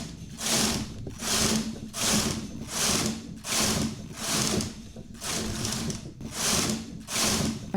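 A double-bed knitting machine knits ten rows as the carriage is pushed back and forth, giving about nine or ten even, rhythmic mechanical rattling passes, close and steady, with no talking.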